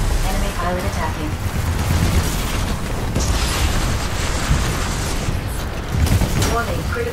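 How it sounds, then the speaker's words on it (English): The Titan ion laser core firing in Titanfall 2, a sustained roaring energy blast with booming impacts and crackling bursts throughout, loud and dense, with a synthetic voice speaking over the chaos. "Ion laser core activated"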